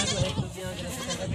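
Goats, including pregnant ones, bleat repeatedly at close range on a farm, their calls layered with steady talking from people nearby.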